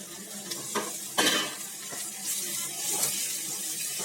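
Curry leaves and tomatoes sauté in a pan for chicken curry, a soft continuous sizzle broken by scraping stirs and clatters of the spoon, close and moderately quiet.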